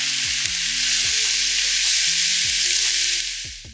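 Chili and celery fry over high heat for a vegetable chow mein, a steady loud sizzle punctuated by repeated scraping stirs of a spatula in the pan.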